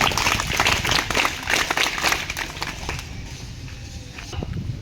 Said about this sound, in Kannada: ಅವರಿಗೆ ತುಂಬು ಹೃದಯದ ಆಹ್ವಾನವನ್ನು ಮಾಡಿಕೊಳ್ಳೋಣ ಜೋರಾದ ಚಪ್ಪಾಳೆಯೊಂದಿಗೆ